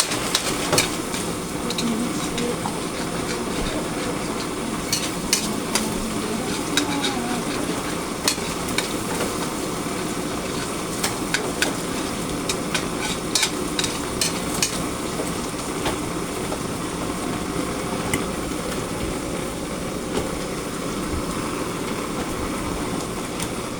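Pancit noodles being stir-fried in a pan, a steady sizzle with frequent scraping and clattering of the utensil against the pan, continuing without pause and no talking.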